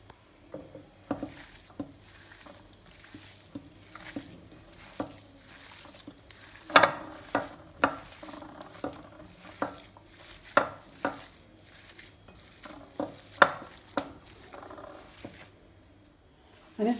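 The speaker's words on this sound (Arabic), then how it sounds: "غادي نستعمل يدي نخلط الجميع" Food ingredients mixed together by hand in a bowl, a steady run of close, soft squelching pats and pushes with occasional louder slaps throughout.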